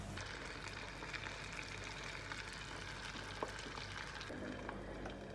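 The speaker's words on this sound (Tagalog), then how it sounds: "I-deep fry ko lang to ng mga 8 minutes." Marinated chicken breast deep frying in hot oil, a dense continuous sizzle and bubbling held at an even level throughout, with a brief shift in tone near the end.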